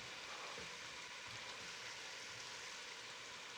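Mexican chorizo sausage browning in a little oil in a pan for chili, giving a soft, steady sizzle and crackle with no talking over it.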